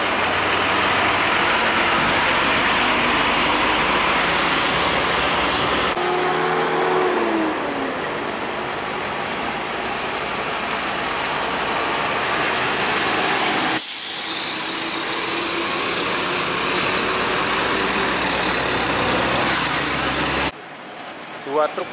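Loud, steady engine roar of heavy trucks passing close by on an Indonesian road, with traffic noise continuing throughout and a voice speaking over it.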